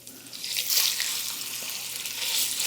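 Sausage dropped into a hot pan of rendered fat for a ragu, loud continuous sizzling and spitting close up that swells after the first moment and holds steady.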